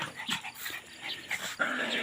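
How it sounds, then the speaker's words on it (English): Dogs playing rowdily nearby, with yips, whimpers and low growls scattered over busy scuffling, fairly faint and with no talk. "I see the dogs have now resumed their mad half hour"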